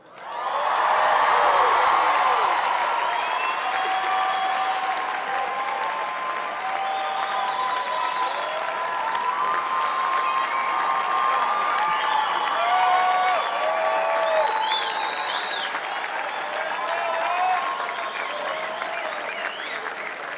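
Sustained, loud applause fills a graduation ceremony hall, a dense wash of many hands clapping that swells at the start and carries on steadily for about twenty seconds with scattered cheers mixed in.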